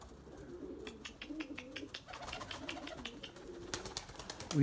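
Purebred Erzurum white pigeons coo in soft, repeated low calls over a quiet background, with a few faint ticks and rustles mixed in.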